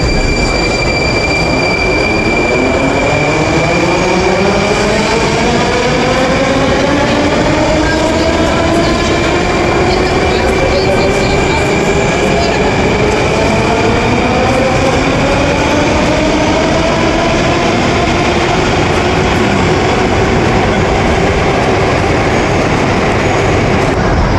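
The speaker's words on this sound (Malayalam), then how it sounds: "മെട്രോയാണ്. കുറച്ച് പഴയ ഒരു മെട്രോ സ്റ്റേഷനാണ്." A Moscow metro train in an old underground station gives a loud, continuous rumble and rattle, with long squealing wheel tones rising and falling across the whole stretch and no voices.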